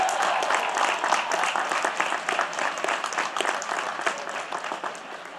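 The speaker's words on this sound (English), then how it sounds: "Give them a big hand." A large audience at a college of business graduation ceremony claps steadily, a full wash of applause that tapers slightly toward the end.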